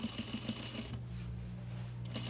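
Sewing machine stitching a replacement zipper onto denim jeans, presser foot lowered, running straight about an eighth of an inch in from the edge; a short, steady close-up whir of needle strokes with no talking.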